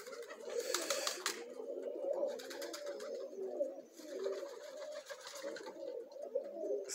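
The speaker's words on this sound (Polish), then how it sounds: "Są ptaszki." Pigeons coo in a series of soft, low, rolling calls from close by, overlapping one another almost continuously, with faint rustling and brief higher chirps scattered between them and no talking.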